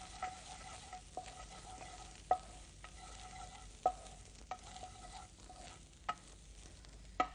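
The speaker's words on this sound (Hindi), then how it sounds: "और अब इसमें डालते हैं धनिया पाउडर। इसको भी भूनना है इसके साथ हमने।" Coriander powder roasts in a pan with other ingredients in a quiet, low sizzle, punctuated every second or so by crisp clicks of a spatula against the pan, with no voices.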